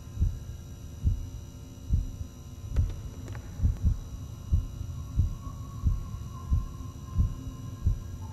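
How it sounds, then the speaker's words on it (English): Heartbeat in the Backrooms VR video game, a steady series of low, thumping pulses roughly every 0.85 seconds over a constant droning hum, with no talk. "Follow your heartbeat."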